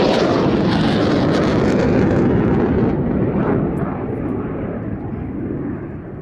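Saab Draken jet fighter flying a display at the Midlands Air Festival, a loud, broad roar of jet engine that holds steady, then eases slightly as it recedes, with no talk over it.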